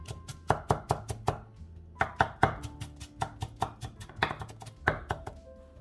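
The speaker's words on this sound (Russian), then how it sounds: "Затем слегка солим и еще порубим ножом до выделения сока" Knife chopping salted, finely diced onion on a board, a steady series of sharp close taps coming in quick bursts with short pauses, no voices.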